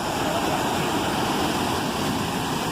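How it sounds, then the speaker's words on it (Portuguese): Waterfall at Presidente Figueiredo in Amazonas, a steady, loud broadband roar of falling water heard up close, continuous and unbroken throughout with no voices. "Chegamos bem pertinho desse cachoeira, gente."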